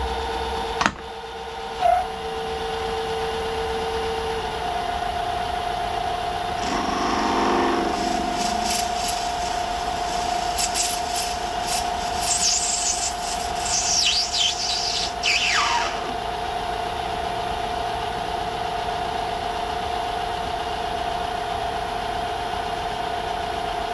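A metal lathe running fast while facing off a part for a carriage stop, a steady mechanical hum with a sharp knock near the start and intermittent high squealing and scraping from the cut midway, no talk.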